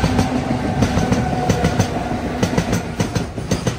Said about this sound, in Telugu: ఈ గూడ్స్ గురించి క్రాసింగ్ పడింది మనకి